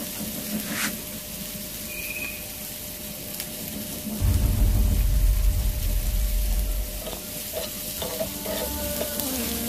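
Onions sizzle steadily in a pan for potato chop, the frying quiet and continuous with a louder burst of stirring and crackling in the middle.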